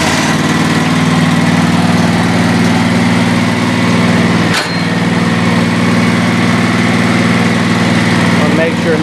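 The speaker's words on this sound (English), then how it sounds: "I'm going to start it up now and have to brake on" Repaired lawn mower engine running loud and steady at a constant idle hum, with one brief dip in the drone midway.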